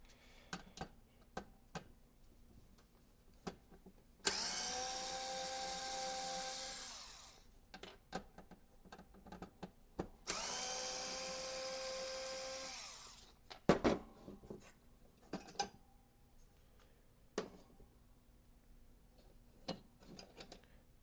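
Small screws being backed out of a Nintendo GameCube case one after another, as scattered light clicks and ticks, with two longer whirring bursts of a powered screwdriver; close and fairly quiet.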